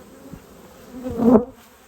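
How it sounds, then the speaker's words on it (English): Honeybees, Italians and Carniolans, buzz around open hives during an inspection, a close, steady drone that swells briefly as one passes near, then settles back. "the yellow ones, they are Italians, bring in some pollen, and the black hives are Carniolans"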